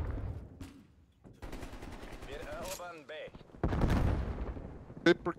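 A grenade goes off in the Zombies mode of Call of Duty: Black Ops Cold War, a loud, heavy blast that follows bursts of in-game gunfire, with a player's voice talking over parts of it.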